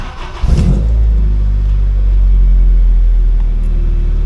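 A car engine fires up just after a throttle body adapter install, cranking briefly and catching, then settling into a loud, steady idle rumble close by with a slight rev midway.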